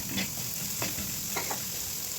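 Two carrots frying with browned garlic in a pan, a steady bright sizzle with a few soft stirring scrapes and clicks, close and alone.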